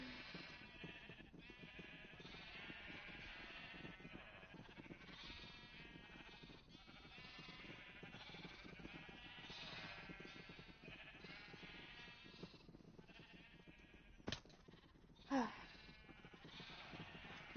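Sheep in the video game Minecraft bleat over and over alongside game noise and background music. Two sharper sounds stand out near the end, and there is no clear talking.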